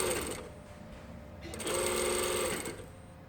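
A sewing machine stitches a tapered line along the vent of an unlined jacket near the centre back seam, running in two steady, close whirring bursts separated by a brief slowdown.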